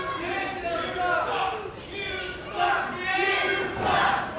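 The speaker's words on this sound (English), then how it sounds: "And this crowd coming alive here" Wrestling event crowd cheering and coming alive in waves, swelling roar and shouts with a commentator talking over it.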